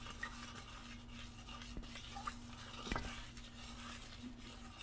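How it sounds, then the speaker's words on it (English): Melted butter, margarine and sugar stirred in a pan for praline cookies, with a spoon scraping and clinking against the metal in an irregular rhythm, a couple of sharper knocks, a faint sizzle and a steady low hum behind. "I'm going to add the 1/2 cup of sugar, and I'm going to begin to stir that together"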